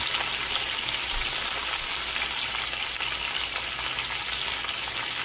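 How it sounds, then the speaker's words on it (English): Hassa and congo fish seasoned with garlic, pepper and salt fry in a pan, giving a loud, dense, steady sizzle that crackles without pause from start to finish. "So I'm just gonna let this half fry for a little bit."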